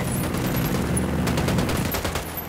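Sustained automatic gunfire in Ghost Recon Wildlands, a dense, loud, continuous fusillade of rapid shots with no talking.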